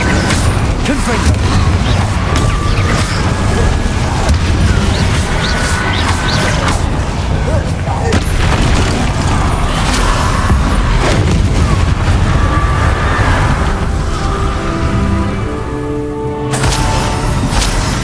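Confringo fire-blast spell cast in Hogwarts Legacy, booming explosive bursts amid a dense, loud wash of game effects and music, with a voice calling out spell names over it.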